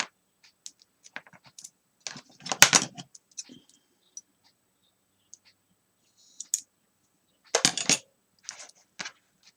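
Red score tape being peeled, handled and pressed onto folded paper for a mini album, giving scattered crackling rustles and ticks with two louder bursts of tearing and crinkling up close, no talking.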